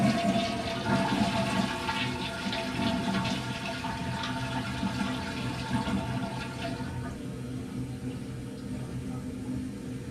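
A toilet flushes nearby with a loud rushing gush of water that gradually settles into a softer tank-refilling hiss.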